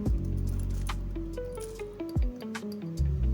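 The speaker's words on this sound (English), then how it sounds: "Stir to mix everything." A spoon stirs spicy chili sauce with sugar, salt, chili flakes, green onion and sesame seeds in a bowl, making close, wet squishing and sloshing sounds with small clinks. No voices.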